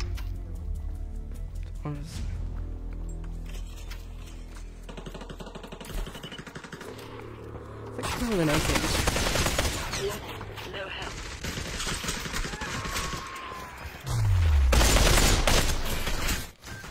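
AK rifle fire in the Population: One VR game rattles in sustained automatic bursts, loud and close, with a voice speaking over parts of it and a heavier burst near the end.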